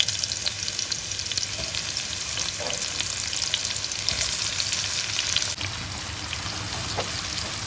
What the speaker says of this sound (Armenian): սոխը տապակում ենք մինչև թեթև ոսկեգույն դառնա։